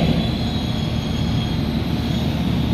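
Cikurai passenger train departing Pasar Senen station in Jakarta, a steady loud rumble of rolling wheels and rail noise with a continuous hiss, no voices present.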